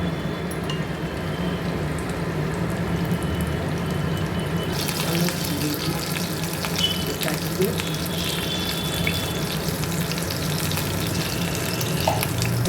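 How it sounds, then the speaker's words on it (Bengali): Whole garam masala frying in hot white oil in a nonstick pan, a steady dense crackle and hiss that carries on evenly throughout, close up and moderately loud. "তেলটা গরম হয়ে গেলে এর মধ্যে দেব গোটা গরম মশলা"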